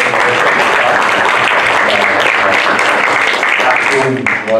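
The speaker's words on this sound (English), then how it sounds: "Also, a round of applause for Jordan, Yusuf." An audience applauds at an academic workshop on state elections in Uttar Pradesh, India. The clapping is dense and steady for the whole stretch, with a voice surfacing briefly near the end.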